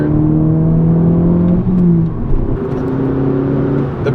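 A Volkswagen MK6 GTI engine hums loud and close in third gear, its pitch climbing steadily as it accelerates, with a brief dip partway through.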